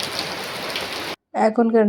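A steady hiss of rain fills the first second, then cuts out abruptly and a voice starts speaking.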